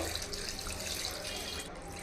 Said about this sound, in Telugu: డైరెక్ట్గా వాటర్ వేసేస్తాను ఇదిగోండి వాటర్ వేసేసుకోవాలి